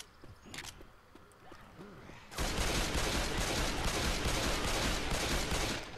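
In Left 4 Dead 2, sustained rapid gunfire suddenly erupts after a quieter stretch and keeps up as a loud, dense barrage, with faint voices before it begins.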